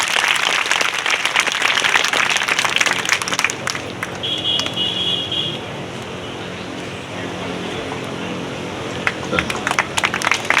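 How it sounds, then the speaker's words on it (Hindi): An audience at a yoga festival gathering in Varanasi applauds in a long, steady wash of clapping, fairly loud and sustained, with a brief electronic tone briefly sounding in the middle. "एक बार तालियों से सबका स्वागत भी चाहता हूं।"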